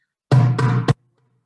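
Eighth notes played on a pitched musical instrument, sounding as a short run of about three evenly timed notes that sustain nearly into one another, close and clear, with no voices.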